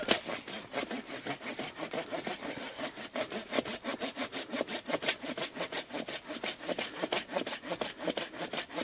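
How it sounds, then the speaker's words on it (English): A cheap folding pruning saw rasps back and forth through a tree trunk in quick, steady strokes, each pull a dry scratchy burst of wood cutting, close and continuous with no talking. "one of the cheaper folding saws trying to cut into this tree"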